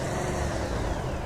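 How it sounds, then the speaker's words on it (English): Air brake hiss as a truck handbrake engages in the driving game Truck World Australia, a loud steady rush of air over a low engine rumble, heard alone. "Oh, handbrake in."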